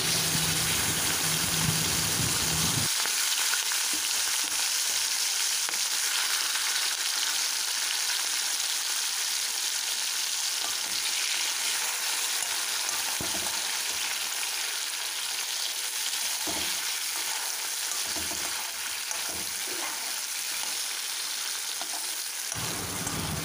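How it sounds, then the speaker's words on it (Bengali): Prawns fry in hot mustard oil in a wok, a dense steady sizzle with crackling that runs without pause for over twenty seconds, close and fairly loud, with no voices. "এবার চিংড়ি মাছগুলোকে ভেজে নিচ্ছি"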